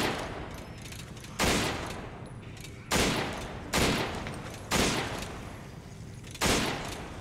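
Rifle gunfire in Resident Evil 5: six loud, sharp shots spaced irregularly about a second apart, each with a decaying tail, over steady game ambience and no talk.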